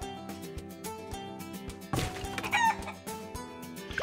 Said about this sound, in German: Übrigens, ich habe jetzt Hühner.